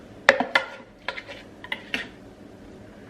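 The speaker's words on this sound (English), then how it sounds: "I'm gonna use a spoon and scrape down the sides" A spoon scrapes down the sides of a blender jar holding a thick frozen-fruit acai mix, giving a few close, sharp scrapes and clinks in the first two seconds, then lighter, sparser taps.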